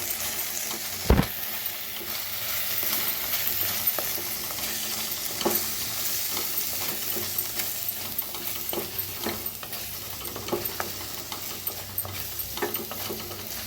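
Spices with garam masala and salt are mixed and roasted in a pan for shev bhaji, giving a light continuous sizzle with repeated scraping and tapping of a spoon against the pan, plus one sharp knock early on.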